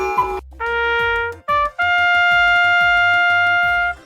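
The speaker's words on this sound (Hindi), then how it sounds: "हाँ, ये ट्रम्पेट की आवाज है।" A trumpet plays a bright fanfare of sustained, ringing notes, loud and close, with a short pause after a brief opening phrase, over a low rhythmic accompaniment and with no voices.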